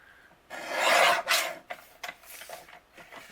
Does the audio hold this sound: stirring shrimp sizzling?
no